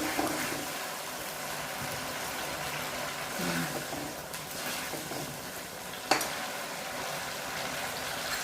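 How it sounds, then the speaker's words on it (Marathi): Onion paste sizzling in hot oil for a Nagpur-style Saoji egg curry, a steady broad hiss with faint bubbling and one sharp click partway through, with no voices. "कांद्याची पेस्ट आणून तेलामध्ये द्यायची."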